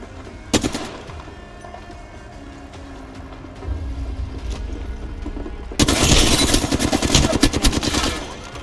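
Weapons fire in the battle-royale shooter Apex Legends, a sharp lone shot followed later by a long, loud burst of rapid automatic gunfire over a steady game background.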